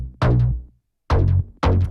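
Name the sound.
layered synth bass from Logic Pro Alchemy samples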